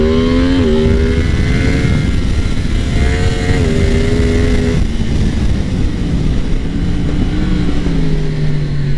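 A 2022 Yamaha MT-10 motorcycle on its stock exhaust revs loudly and continuously, the engine pitch rising and dipping through several throttle blips before settling into a lower, steady drone.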